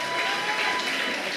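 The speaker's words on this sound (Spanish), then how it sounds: "Denle un fuerte aplauso a Cristo Jesús." Church congregation applauding during a Sunday service, a steady dense wash of clapping filling the whole moment at even loudness.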